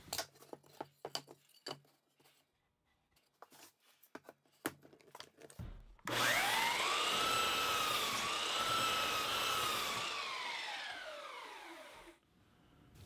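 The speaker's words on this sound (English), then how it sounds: "now I'll use the belt sander to remove the blade marks" A belt sander whirs up and runs steadily for about six seconds on clamped wooden cabinet legs, loud and close, its pitch sagging under load before it winds down, after a stretch of sharp knocks and handling sounds.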